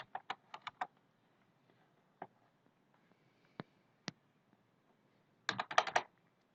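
Keys clatter on a computer keyboard while writing Android code, a quick burst of taps, then a few isolated clicks and a dense closing flurry, close and fairly quiet with no talk.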